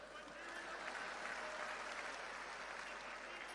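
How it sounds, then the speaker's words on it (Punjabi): An audience at a meeting with district council and block committee members claps in a steady, dense burst that holds evenly for several seconds, with no voices standing out. "ਤਾੜੀਆਂ ਹੀ ਮਾਰ ਦੋ ਬਸ ਹੁਣ ਤਾਂ"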